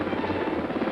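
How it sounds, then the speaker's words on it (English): An HH-3E rescue helicopter modified for mid-air refueling flies overhead, its steady, loud rotor chop filling the short moment without a break. "HH-3Es, modified for mid-air refueling, become the first choppers to cross the Atlantic non-stop."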